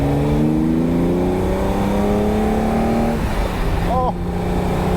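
A Ferrari 365 GTB/4 Daytona Spider accelerating hard at full throttle, its engine note climbing steadily through the gears with a brief shift break, loud and close from inside the car.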